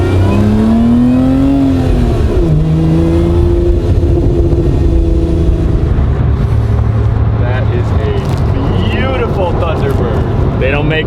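A small British car's engine whines and revs while driving, loud and continuous from inside the cabin, pitch rising and falling with acceleration, with talking over it.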